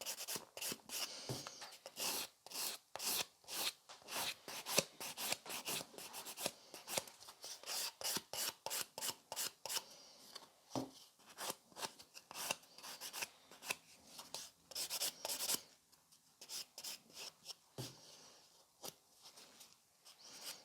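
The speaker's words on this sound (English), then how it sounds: "I'm swapping to the 180 grit and creating those scratches" A 180 grit nail file rasps across a natural nail in quick, repeated strokes, close and fairly quiet, with short pauses between bursts and no talking.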